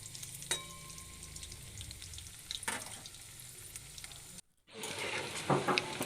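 Cabbage pakora with coriander leaves and green chilli frying in hot oil, a steady close sizzle with occasional stirring, briefly cut off before resuming louder.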